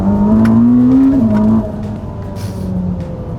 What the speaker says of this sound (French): J'ai jamais conduit une voiture qui accélère aussi fort que celle-là.